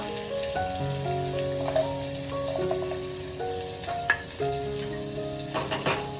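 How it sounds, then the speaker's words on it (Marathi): Chopped onion sizzles while sautéing in oil in a pan for a spicy misal. A soft, continuous crackle runs throughout, with a few sharper pops toward the end and a steady tonal background sound. "कांदा परतून"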